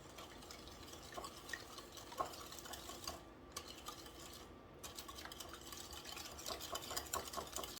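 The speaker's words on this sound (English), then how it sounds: "Give that a whisk." Batter for jumbo blueberry muffins being whisked in a bowl, a steady busy scraping and clicking texture of the whisk against the sides that runs nearly eight seconds at a constant, moderate level with no talking.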